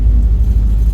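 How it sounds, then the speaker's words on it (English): A 1965-66 Buick Skylark passes close by, its engine a steady, loud low rumble that holds throughout with no talk over it. "65, 66 Buick Skylark. It passed me. It sounds good."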